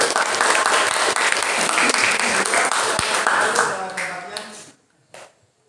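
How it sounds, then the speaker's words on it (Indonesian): Classroom applause during a physics lesson, a dense burst of clapping from a group of students that holds steady for about four seconds, then fades out and ends abruptly. "Berikan tepuk tangan untuk"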